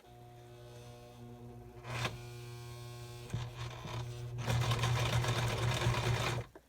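A sewing machine runs in short bursts, first a brief whir, then a longer steady stitching run that ends abruptly, close and fairly loud with a low hum underneath.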